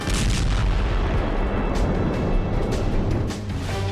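Artillery shells exploding near a passing military convoy in a war zone, caught from a drone: a dense, continuous roar of booming blasts and rumble, loud and sustained with repeated bursts throughout.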